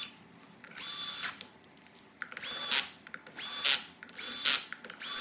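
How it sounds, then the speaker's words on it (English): A power tool drives the wheel bolts back onto a tire of a Gspace Mars GTR in three close, whirring bursts of about a second each, separated by brief pauses and small clicks, with no talking. "Now, start reattaching the bolts one by one."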